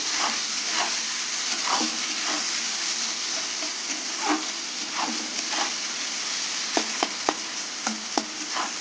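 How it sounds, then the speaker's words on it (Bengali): Onion and potatoes frying together in a pan, a steady sizzle broken by periodic stirs and a cluster of quick metallic scrapes near the end. "পেঁয়াজ আলু কিছুক্ষণ ভেজে নেবো"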